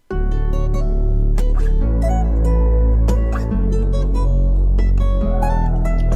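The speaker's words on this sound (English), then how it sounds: "So yeah, the guitar with the bass sounds like this." Guitar and bass play together in a beat, plucked melodic guitar notes over deep sustained bass tones that shift pitch every couple of seconds, loud and continuous with no talking.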